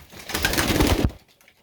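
A pigeon's soft, throaty cooing up close, one rolling call lasting about a second, then quiet.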